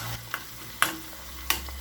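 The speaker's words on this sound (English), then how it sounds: "I'm frying the onions in the oil." Onions fry in oil while being stirred for Ghanaian wasawasa, a Northern Ghana dish. A faint, steady sizzle runs underneath three spaced scraping stir strokes.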